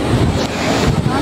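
Strong wind buffeting the microphone outdoors, a loud, dense roar that persists through the whole short moment with no clear voices.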